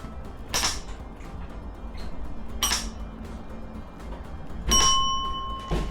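A hand-operated bell hammer strikes a bell three times, each hit a sharp metallic ding with a ringing tone, spaced about two seconds apart over a low background hiss.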